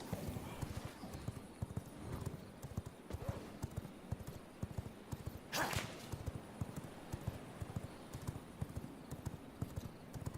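Horse hooves clip-clop in a steady, brisk rhythm while riding in the V Rising video game, a continuous mid-level patter with one brief whooshing burst partway through.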